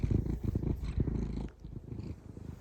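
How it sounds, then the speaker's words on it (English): A cat purrs up close after a snowy winter minibike ride, a low rumbling rhythmic purr that is fairly quiet and steady, easing slightly softer midway. "She's purring."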